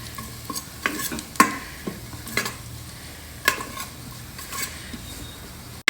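Sliced onions fry in a pot for a pulao garnish, a soft sizzle beneath scattered sharp clinks and scrapes of a stirring utensil against the pan, with no talking.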